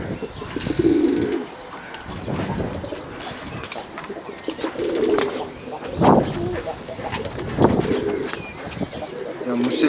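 Tumbler pigeons coo in repeated low, throaty phrases, fairly close, while a person talks intermittently over them and other small noises occur.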